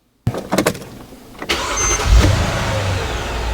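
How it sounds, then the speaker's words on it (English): A Mercedes GL450 engine cranks with a few rapid stuttering turns, then catches and settles into a steady, close idle. "So now let's start the engine."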